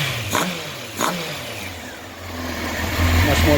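A 1993 Honda CBR900RR California-spec motorcycle, freshly restored with synced carburetors, revs its four-cylinder engine up close, with a loud steady drone that blips twice early and climbs higher near the end.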